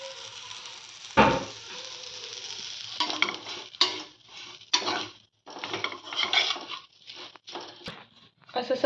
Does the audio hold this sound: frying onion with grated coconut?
yes